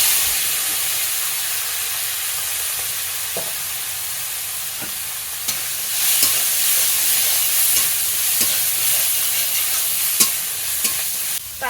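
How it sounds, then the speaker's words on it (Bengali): Loud, steady sizzling of crabs frying in hot oil with mustard seeds, punctuated by regular scraping clicks of stirring; no one speaks. "এবার এর উপরে আমি এই কাঁকড়াগুলো দিয়ে ভেজে নেবো"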